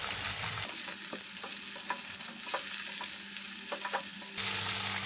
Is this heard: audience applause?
no